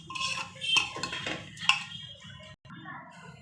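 A spoon scrapes and clinks against a metal pot while stirring masala for masoor rice, a few sharp taps standing out over quiet background hiss.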